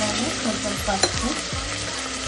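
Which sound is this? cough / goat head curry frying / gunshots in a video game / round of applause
goat head curry frying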